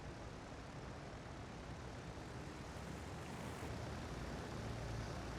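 Carrier Yorktown launches aircraft in the Victory at Sea Pacific video game: a steady, dense roar of plane engines that holds at an even level throughout, with no talking.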